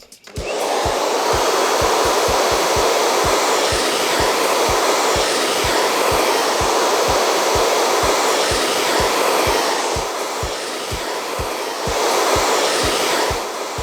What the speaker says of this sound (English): In order to create this smooth blow dry, we're going to be using a large round brush